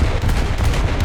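Bofors autocannon fire in War Thunder, a loud, dense, rapid stream of booming shots from a naval boat's gun mount, heard close and continuous over a short burst.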